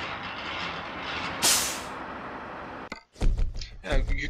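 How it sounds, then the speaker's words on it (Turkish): Air brake hiss as a trailer is uncoupled from a Volvo FH16 540 truck in Euro Truck Simulator 2, a long steady hiss with a sharp burst, then a thunk followed by someone talking. "Dorsemizi bırakalım."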